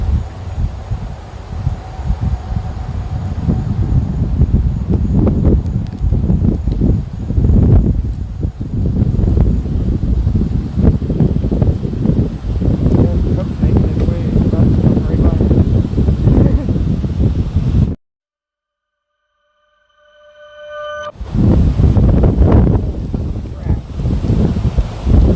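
Strong wind buffeting the microphone, loud gusty low rumbling roars that pulse for about eighteen seconds, drop briefly to near silence, then return.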